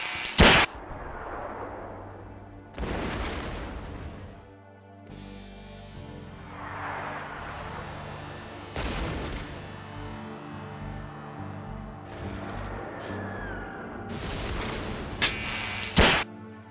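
Heavy booms of artillery fire strike at intervals, four or five sharp blasts with rumbling, whooshing noise rolling between them, loud and fairly close.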